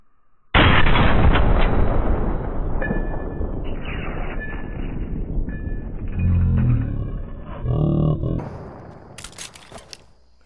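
Heavy sniper rifle fire in Fortnite Battle Royale: a loud sharp shot opens the clip, then its long rumbling tail and later game sounds, with a player talking at times over the mix.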